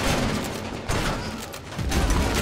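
Heavy gunfire in Medal of Honor Above and Beyond, a dense rattling barrage with loud boomy hits that keeps going without a break, with no voices.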